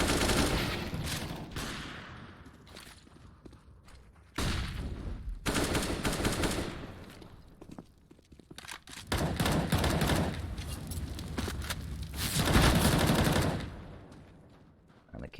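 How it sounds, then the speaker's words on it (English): Counter-Strike gunfire during a competitive ESEA league match, including AWP sniper rifle shots, ringing out in loud repeated bursts and volleys across a busy in-game soundscape, with quieter lulls between exchanges. "The AWP comes onto the board and just takes the shot through the smoke as peeking towards long."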